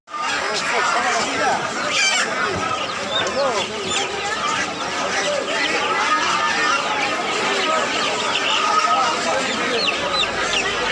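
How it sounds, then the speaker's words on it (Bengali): Tiger chicken chicks and other fowl at a rural poultry market make a dense, continuous peeping and clucking up close, mixed with steady crowd chatter. "এই মুরগির বাজারে এই মুরগিগুলো, বাচ্চাগুলো হচ্ছে টাইগার মুরগির বাচ্চা"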